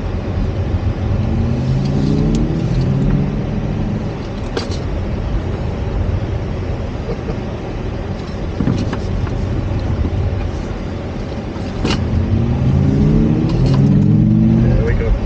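Xiaomi SU7 Max electric car driving and accelerating at the Beijing factory, heard from inside as a steady loud road and motor rumble with rising whine sweeps near the start and end, with people talking over it.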